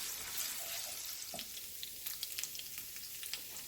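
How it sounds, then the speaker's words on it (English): Chorizo sizzles quietly in a pan as its fat renders, a soft continuous hiss with a few light pops and small stirring clicks, faint and with no talking. "I'm going to continue cooking my chorizo, render out the fat before I add the beans"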